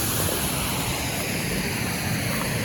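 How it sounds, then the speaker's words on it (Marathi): Forceful rushing stream water at a riverside picnic spot, a loud, steady broadband roar filling the whole stretch with no pauses and no voices. "पाण्याला फोर्स आहे."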